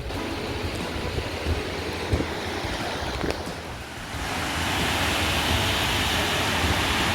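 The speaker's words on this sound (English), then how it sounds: "These rivers run all the way through Washington and create humongous waterfalls like this." Steady broadband roar of a large waterfall in Washington State, loud and continuous, with a brief dip before swelling fuller for the rest.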